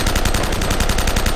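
Rapid automatic gunfire from the video game Uncharted: Drake's Fortune, a loud, continuous burst of evenly spaced shots with no talk over it.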